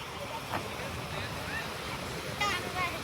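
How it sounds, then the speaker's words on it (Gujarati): Sea waves wash steadily at a beach in Surat with a soft, constant rush mixed with wind noise, while a person speaks faintly over it. "સમંદરની લહેરો ઉઠી રહેલી છે"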